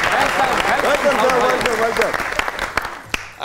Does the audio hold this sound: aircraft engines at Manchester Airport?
no